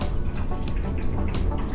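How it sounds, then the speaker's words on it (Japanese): Shower water runs and splashes onto a camera in a hotel bathroom on a Cathay Pacific trip from Hong Kong to Manila, giving a loud, steady, broad hiss right up close that fills the whole clip. "カメラに水がかかった"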